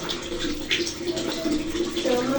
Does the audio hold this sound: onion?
no